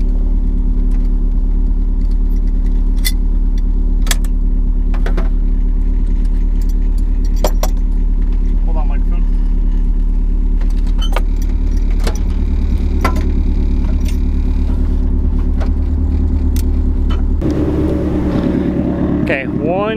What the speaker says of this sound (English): This will be my first burnout in my car.